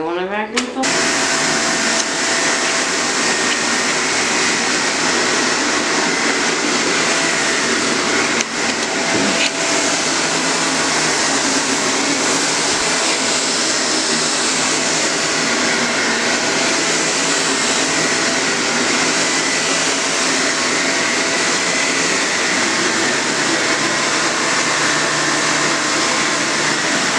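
A Shark Apex Duo-Clean vacuum cleaner switches on and runs steadily with a loud, continuous whirring motor whine, holding a constant drone for the whole stretch.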